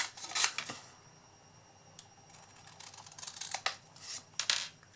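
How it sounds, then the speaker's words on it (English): Scissors snip through paper while folding a tea bag into a fancy folded shape, a series of quiet, crisp clipping sounds in uneven bursts against a faint background. "I just get my scissors and eyeball this part here."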